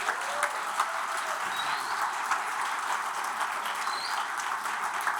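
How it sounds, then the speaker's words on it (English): An audience at a lecture gives a round of applause, a dense, sustained patter of many hands clapping that fills the room at a steady level throughout. "One more round of applause for Hirano-san."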